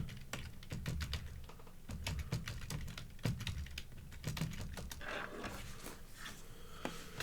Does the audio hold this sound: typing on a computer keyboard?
yes